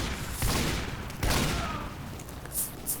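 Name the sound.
Ambassador revolver shot in video game Team Fortress 2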